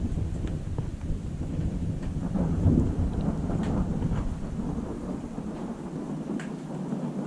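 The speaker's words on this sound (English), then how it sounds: "Thunder and lightning." A spring thunderstorm rumbles with low rolling thunder over steady rain and wind buffeting the microphone, loud and close, with no talk.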